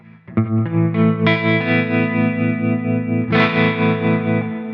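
Electric guitar chords with a pulsing tremolo and lush spring reverb from an H9 effects pedal, slightly gritty from an RC Booster, ringing out with a second strummed chord partway through.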